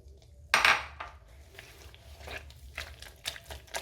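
Banana puff dough being mixed by hand in a bowl: a sharp clatter at the start, then a run of lighter clinks, taps and scrapes against the bowl, close and irregular.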